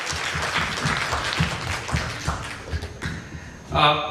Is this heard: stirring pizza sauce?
no